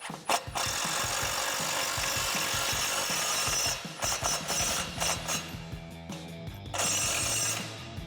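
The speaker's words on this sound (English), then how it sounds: "Let me get my impact here. It's a 14mm lag bolt." An impact driver sets a 14mm lag bolt while mounting a Lange Power Hoist-A-Top on a Jeep Wrangler JL, giving sustained loud rattling hammering with short pauses between bursts, close up and with no talk.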